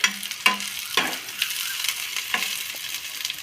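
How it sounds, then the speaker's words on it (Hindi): Onions frying and sizzling in a pan as they turn light brown, with a steady soft hiss broken by a few sharp stirring clatters, close and moderately loud, no voices. "तो हमारी प्याज ना हल्की सी ब्राउन हो गई है, तो हम इसमें अब ऐड करेंगे तोरई"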